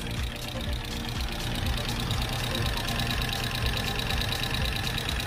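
A 1970s Alfa Romeo Giulia Super 1600 idles steadily close by, its engine running with a continuous mechanical knocking and ticking from valves out of adjustment.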